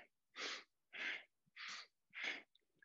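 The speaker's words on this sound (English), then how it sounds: "you can really hear yourself breathing. It's a bit of an audible breath." Audible breathing during a chair yoga session: four short, forceful breaths in an even in-out rhythm, close and clear, with quiet pauses between and no speech.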